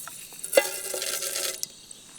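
Dried red chillies and panch phoron hitting hot oil over a campfire, giving a brief sizzling burst with a little stirring, close and fairly quiet before fading out.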